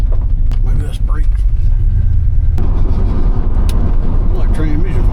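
A 1978 Chevrolet Silverado truck drives along with a steady low engine rumble and road noise, the pitch shifting as it moves from first into second and then third gear, with a person talking over it.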